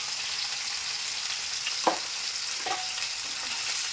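Onions with fenugreek leaves fry in a pan with a steady broadband sizzle, broken by a couple of brief stirring scrapes near the middle and no voices.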